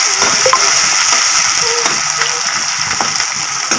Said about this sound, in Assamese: পিয়াজখিনি ৰঙচুৱা হোৱালৈকে ভাজিব লাগিব